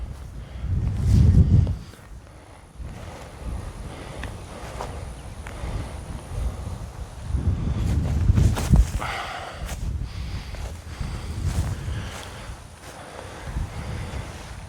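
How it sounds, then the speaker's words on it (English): Gusty wind sweeping across a golf course, buffeting the microphone with low rumbling swells that rise and fade several times, alongside faint footsteps and rustling. "That wind is just beating, man."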